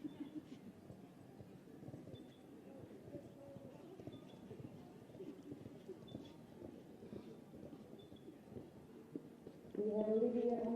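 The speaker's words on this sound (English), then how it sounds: "16-year-old Olivia Price from Victoria, setting off at a very forward canter." A horse canters over a 1.20m junior show jumping course, its hoofbeats a soft, fairly distant rhythmic thudding under wind noise and an announcer's voice, with a brief louder burst at the end.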